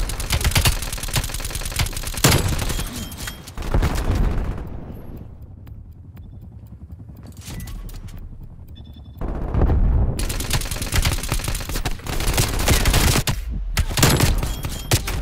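Sustained automatic gunfire and rattling bursts in a Call of Duty Black Ops Cold War match, loud and close, with a quieter stretch midway before heavy firing resumes.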